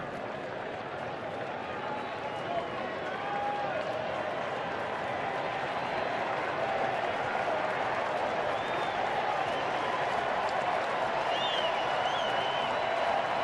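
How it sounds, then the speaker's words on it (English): Baseball fans at a stadium during a 2012 National League Division Series playoff game between the Cardinals and Nationals keep up steady rhythmic applause and cheering, a dense continuous roar of the crowd with faint voices rising above it. "Rhythmic applause and the cheering and the waving of the white towels for the very decorated Cardinal fans here"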